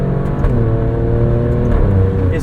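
2022 Alfa Romeo Stelvio Quadrifoglio accelerating through its ZF 8-speed gearbox on paddle shifts, a loud, close engine roar with rising harmonic tones that drop briefly at a gear change before climbing again.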